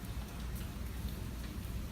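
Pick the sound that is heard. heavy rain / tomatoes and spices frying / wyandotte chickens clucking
heavy rain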